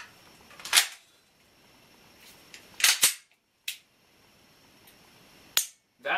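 Handgun shots fired outdoors, several sharp single cracks spaced irregularly over a few seconds, with quiet gaps between them and no talking.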